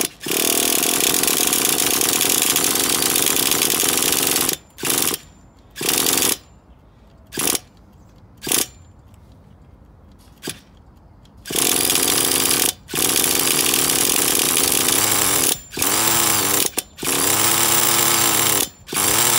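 An OS 21TM nitro engine in a T-Maxx RC truck on its first start, revving loud and buzzing near the mic. It runs in sustained bursts cut by several brief drops and a longer quieter stretch midway.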